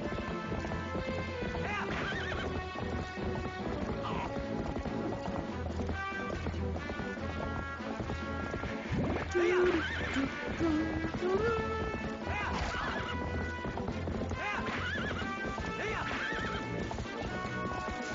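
Horse hooves clip-clop in a steady galloping rhythm with repeated neighs in the video game Twilight Princess, game music underneath and someone talking over it at times.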